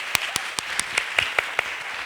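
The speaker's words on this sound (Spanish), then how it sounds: "un aplauso, por favor, para Máximo Pradera y David Trueba" Audience at a film festival colloquium in Jerez clapping, with a few distinct, sharp hand claps standing out in an evenly spaced rhythm over a thin, quieter background of applause.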